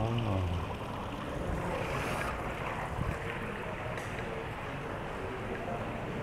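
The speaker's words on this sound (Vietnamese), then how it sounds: "Đây nước chảy róc rách nha các bạn, tiếng nước chảy róc rách ngắm hòn non bộ." Water trickles over an ornamental rock garden in a steady, close, broadband wash that stays fairly loud and even from start to finish.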